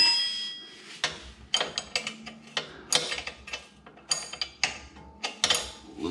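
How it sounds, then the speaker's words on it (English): A ratchet fitted with a 19 mm socket loosens a control arm nut on a Toyota Corolla, giving bursts of close, sharp metallic clicking in irregular runs with brief pauses between strokes. "Then we're going to get our 19 millimeter again, get it on that nut."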